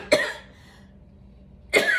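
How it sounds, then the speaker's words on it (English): Two sharp, close coughs from a person, one at the start and another near the end, separated by a quiet pause. "I'm coughing."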